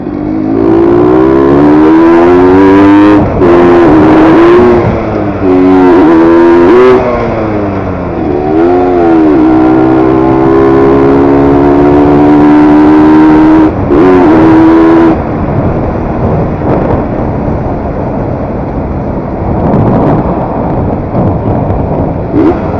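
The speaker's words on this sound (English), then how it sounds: "Nicely maintained bike." A Yamaha RX-100 two-stroke motorcycle on a short ride, loud and close, its engine revving up and down repeatedly with sharp rising and falling pitch through gear changes, then settling into steadier running, with no talking.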